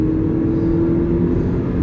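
A 2008 Toyota Corolla Altis engine holds a loud, steady high-RPM drone heard from inside the car, a constant hum without breaks.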